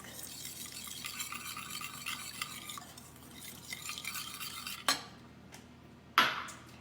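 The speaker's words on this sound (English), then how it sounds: "Just kind of blend that around using a whisk." Cocoa being whisked into a mixture in a bowl for a chocolate fudge pie, soft rapid scraping and swishing that fades, followed by two sharp clinks of the whisk against the bowl.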